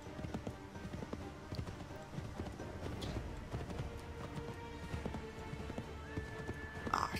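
Horse hooves clip-clop steadily in the video game Assassin's Creed 3, a continuous walking rhythm of hoofbeats amid faint game ambience.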